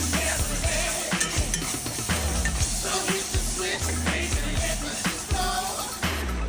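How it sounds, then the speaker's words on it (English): Bell peppers sizzling steadily in a roux in a hot pan while a utensil stirs and scrapes against the pot, with occasional clinks, close and fairly loud. "You can hear it sizzling"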